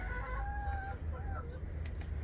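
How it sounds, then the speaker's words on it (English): Chickens cluck and call in short, wavering bursts over a low, steady background rumble, fairly close by. "Chickens are back here."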